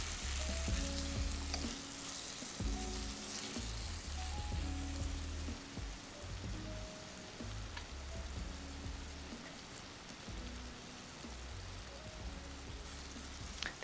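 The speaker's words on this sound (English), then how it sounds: "Stir fry until the tomato gets soft." Onion and tomato stir-frying in a pan for an oxtail tomato stew, a steady close sizzle with scraping stirs throughout, with no voices.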